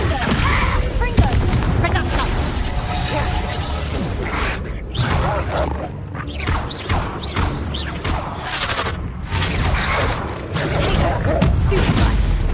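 Confringo fire spells burst repeatedly in the video game Hogwarts Legacy, a rapid string of loud explosive blasts and crackling impacts over dense combat noise.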